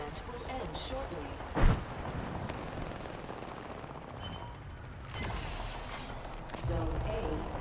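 A frag grenade bursts in a sci-fi shooter match, one sharp loud blast amid constant gunfire and game noise, with announcer voice lines and player talk running over it.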